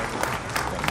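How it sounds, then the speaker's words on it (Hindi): Dense applause fills a hall as the Aditya L1 solar mission launches successfully, a loud, continuous roar of clapping from a large crowd. "पूरा हॉल तालियों की गड़गड़ाहट से गूंज"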